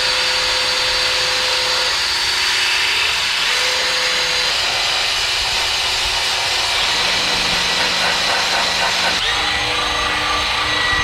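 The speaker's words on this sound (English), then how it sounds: "Grinding away on the underbody right here." A power grinder works on the underbody of an Acura TSX, giving a loud continuous whining roar close by that stays steady for the whole stretch with slight pitch shifts and no talking.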